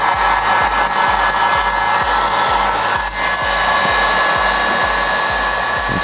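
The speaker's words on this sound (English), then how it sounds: "you might zap it a little bit with the heat gun" A heat gun blows a loud, steady roaring hiss at close range while warming adhesive tape inside a Camaro, with a faint rhythmic low thumping running beneath it.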